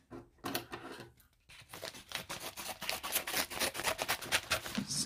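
An envelope from an Amazon package is cut open with a ripping, crinkling tear after a brief pause, the paper rustling in quick close bursts with no talking.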